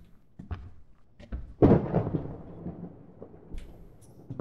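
Deep rolling thunder from the horror video game Suite 776, with a heavy crash midway that rumbles on and fades, alone with no talk.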